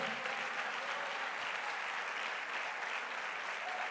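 Steady applause from a Spanish-speaking church congregation, many hands clapping in praise in an even, continuous wash that holds at a fairly constant level, recorded quietly.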